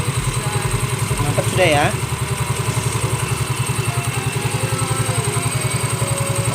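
A Yamaha Mio Soul 125 FI scooter with racing CVT parts idles with a steady, rhythmic mid-pitched thrum, while someone speaks briefly over the engine.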